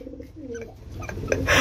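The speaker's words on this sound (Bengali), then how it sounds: "আর এই যেটা হচ্ছে নর কবুতর।" Male pigeons at a market cooing in short, soft, throaty bursts, heard close, with a little background clatter near the end.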